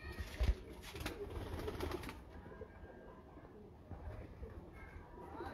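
Pigeons on a rooftop in Kasur give soft, low coos with a brief wing flutter near the start, heard fairly close over faint background noise.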